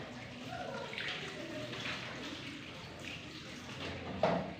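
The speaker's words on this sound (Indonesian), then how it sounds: "Lalu bilas dengan air mengalir." Water running from a tap as hands are rinsed at a clinic sink, a steady broadband wash with faint splashing over low room noise and no talk.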